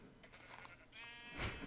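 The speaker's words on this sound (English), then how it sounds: "So it looks like CatDog got his sheep back" Sheep bleating inside a Minecraft modpack game world, one short wavering game bleat rising near the end over faint background game ambience.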